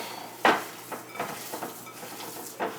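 A spoon scraping and knocking against a bowl while stirring meatloaf mixture with breadcrumbs, a few irregular close clinks and soft wet scrapes, with no talking.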